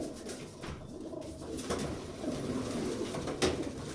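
A pigeon coos in a loft, soft, repeated rolling calls close by against a low background hum, with no talking.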